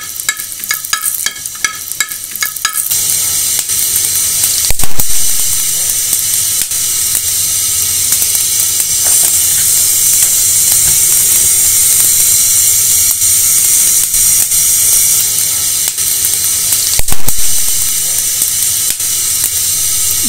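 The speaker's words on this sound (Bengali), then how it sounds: "প্রথমে আমি ঘি দিয়ে নিলাম, আমি আজ কাঁঠালের বিচির হালুয়া করছি। এলাচ আর দারচিনি ভেজে নেব," Cardamom and cinnamon fry in hot ghee for jackfruit seed halwa, making a loud, continuous sizzle with scraping stirring bursts near the start and brief spikes partway through.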